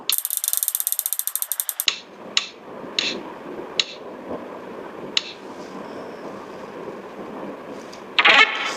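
A prize spin wheel with a ratcheting pointer runs through a fast, loud burst of clicks, then slows into sparse, separated ticks that trail off over several seconds, ending with a louder rattle near the end.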